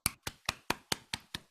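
Clapping after a play reading, seven evenly spaced sharp claps at a quick steady rhythm, close and fairly quiet, from only a person or two rather than a full crowd.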